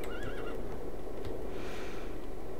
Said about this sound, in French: Là, on a un cheval.